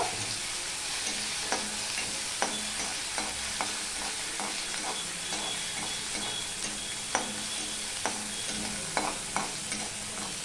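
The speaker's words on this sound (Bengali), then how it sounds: "পেঁয়াজ বাটাটা আমি একটুখানি লাল লাল করে ভেজে নেব।" Onion paste frying in a pan for a Bengali hilsa fish curry, a steady close sizzle broken by frequent sharp scrapes and taps of a spoon stirring, with no voices.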